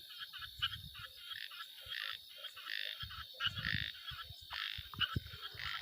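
A chorus of frogs croaks in quick, clustered bursts, faint and somewhat distant, over a low background hum.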